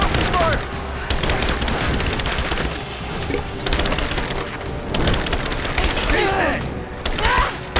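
Rise of the Tomb Raider gunfire comes in rapid bursts and scattered loud shots, with mechanical clatter and a few brief shouted voices mixed in across the firefight.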